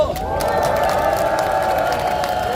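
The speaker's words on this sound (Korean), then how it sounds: "여러분 박수 한번 주십시오." A crowd at a street rally in front of the National Assembly claps and cheers, a dense, continuous wash of applause and voices with a sustained tonal hum running underneath.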